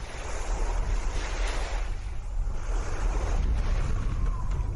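Storm ambience from a tabletop session soundscape: rolling waves and gusting wind roar steadily and loudly, with surging swells rising and falling throughout and no talking.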